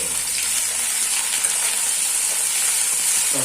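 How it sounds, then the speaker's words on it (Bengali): Onions sizzle steadily in hot oil in a pan while they are stirred. The frying hiss is dense and constant, with no talk over it. "পেঁয়াজটা দেওয়ার পর একটু নেড়ে নেবো।"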